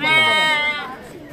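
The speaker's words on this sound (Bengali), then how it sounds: "হ্যাম্পশায়ার ভেড়া, তোতাপুরি ছাগল, এগুলোর নাম আছে এক একটা, এক এক জাতের" A single loud, wavering bleat from Hampshire sheep or Totapuri goats at a small zoo rings out close by, then fades, with faint background chatter.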